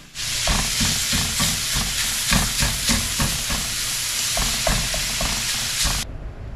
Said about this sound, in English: we have browned our sausage